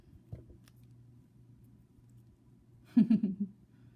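Jewelry wire is trimmed with a small cutter in a quiet room, a faint snip followed by a brief cluster of close, sharp clicks and rattles near the end.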